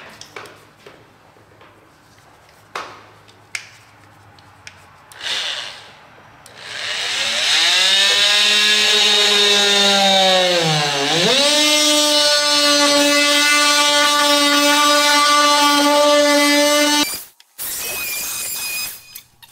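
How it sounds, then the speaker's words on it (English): An oscillating multi-tool cuts through a rubber truck camper bed mat laid over a wood scrap, starting after a few light knocks as a loud, steady high-pitched buzz that dips in pitch under load and runs about ten seconds before cutting off. "Cutting my bottom mat with the multi-tool really does a nice, neat job of the process."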